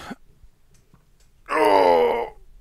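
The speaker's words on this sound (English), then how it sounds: "get a good stretch. Good yawn." A person gives one loud, drawn-out voiced yawn while stretching. It lasts under a second, is close to the microphone and follows a quiet moment.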